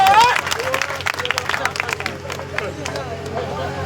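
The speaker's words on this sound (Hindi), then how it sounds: "बाबा साहब अम्बेडकर की पावन भजन पर जोरदार ताली एक बार होनी चाहिए इनके नाम पर" Applause for a devotional bhajan honoring Babasaheb Ambedkar at a gathering, heard as a dense burst of clapping that swells at the start and then continues more unevenly amid crowd babble and a voice.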